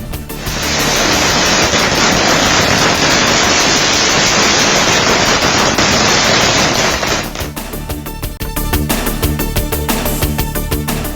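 Diwali firecrackers bursting during festival celebrations, a dense, loud crackling barrage that runs continuously for about seven seconds, then breaks into sharper, separate pops and bangs.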